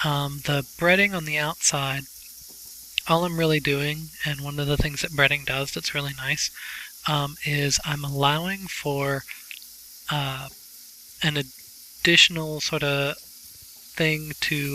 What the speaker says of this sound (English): as you can hear that sizzling in the pan